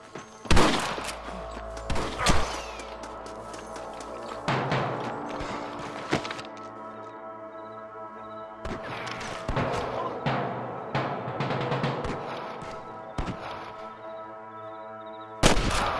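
Sniper and other gunfire in the Red Dead Redemption video game, with repeated sharp shots and booming reports over a dense bed of game music, ambience and a voice calling out.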